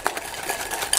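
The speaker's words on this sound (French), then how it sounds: "Et là, on mélange bien pour avoir une belle crème d'amande" A short burst of brisk whisking or spoon-stirring of almond cream made with pecan powder in a bowl, with light clinks and scraping close by and no voices.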